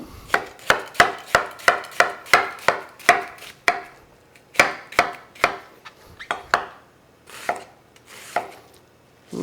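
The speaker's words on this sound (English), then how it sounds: "While that's going, I chop up a little bit of onion." A knife chops onion on a cutting board in a quick, even run of crisp, close taps, pausing briefly midway, then resuming with a few more irregular strokes.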